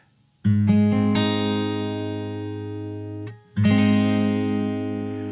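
Guitar strings are strummed quickly as an arpeggiated chord from the opening of a song, ringing brightly and sustaining, then a second chord is struck after a brief break, close and clear with no voice.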